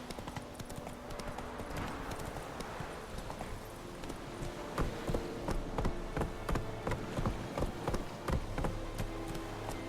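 Hooves of Roach, Geralt's horse in The Witcher 3, clip-clopping in a steady galloping rhythm, sharp repeated hoof strikes over low outdoor ambience, growing more prominent in the second half.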